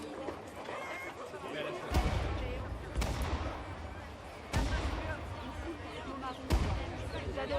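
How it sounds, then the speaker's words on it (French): Cannon fire thundering west of Paris in April 1871 during the Paris Commune: four heavy, booming blasts spaced a second or two apart, each with a rolling low tail, under a narrator's voice. "on se dit que le canon qui tonne à l'ouest de Paris doit être un anniversaire quelconque"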